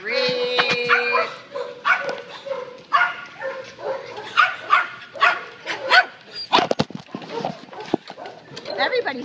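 A tired dog barks and yips repeatedly at close range, loud sharp yelps with whimpering in between, as people talk over it.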